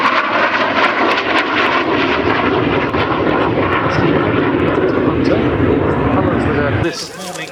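Hawker Hunter jet making a slow, low pass at an airshow with gear and flaps down, a loud sustained roaring engine drone filling the scene nearly throughout, under a voice talking.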